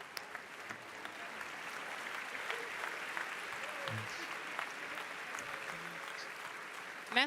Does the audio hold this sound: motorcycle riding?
no